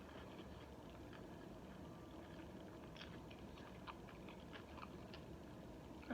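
Someone chews a spicy Popeyes chicken sandwich up close, with soft, quiet, irregular crunching bites over a low background hum.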